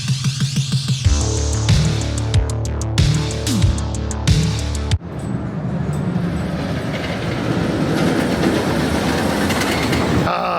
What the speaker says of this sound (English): This is such a killer coaster. All right, sweet. So let's get some rides on this incredible RMC.